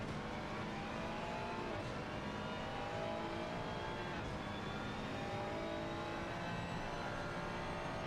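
A GT3 race car in a sim racing game at Zandvoort, its engine droning continuously on throttle with rising gear pulls and steady road roar, loud and close with no talk.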